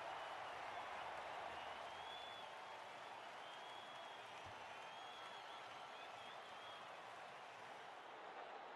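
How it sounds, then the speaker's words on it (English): A cricket stadium crowd in the WCC3 video game roars and cheers in a continuous dense wash of noise that fades slightly over several seconds. "Listen to that crowd, they're going nuts"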